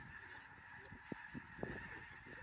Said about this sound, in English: The snow goose, they're coming through.